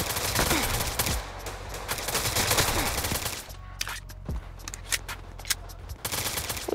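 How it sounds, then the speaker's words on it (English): Gunfire in a Roblox Chicago shooting game: bursts of rapid automatic shots and scattered single cracks, loud and close, with a quieter gap midway. "I know I heard some gunshots."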